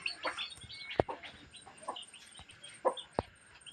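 Chickens on a small farm cluck in short, scattered bursts at close range, with a few sharper calls standing out over a quiet background.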